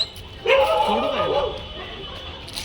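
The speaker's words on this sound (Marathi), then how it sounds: "इथं सगळे कुत्रे भुकतात" Dogs at a veterinary clinic give yelping, whimpering barks over a murky indoor background, with a person talking nearby.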